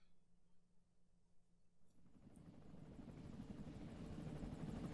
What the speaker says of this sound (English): It starts with a helicopter over the ocean.